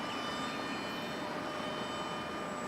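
A radio-controlled model airplane flies under power, its engine or motor giving a steady, loud, continuous drone with a faint high whine held throughout.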